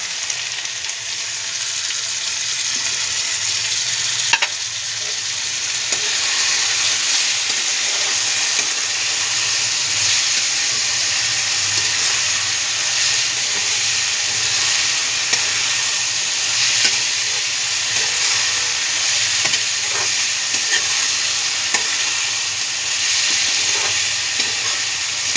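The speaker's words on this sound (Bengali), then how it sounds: "মশলাটা পুরো ঢেলে দেবো।" Spice paste mixed with water frying in a pan with goat liver and soybean, a loud continuous sizzle and hiss with occasional faint clicks of a spoon against the pan.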